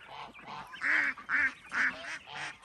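A flock of ducks quacks loudly and repeatedly in close, overlapping bursts, nasal and raspy, with a few honk-like calls mixed in.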